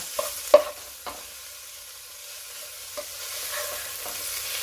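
Holy basil and century eggs are stir-fried in a pan, making quiet scraping and tossing sounds with a few sharp clanks of the spatula over a faint, soft sizzle.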